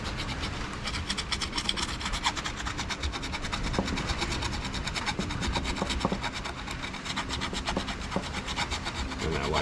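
Steady, continuous rasping of sandpaper worked back and forth over a fin's leading edge, close up, with no talking.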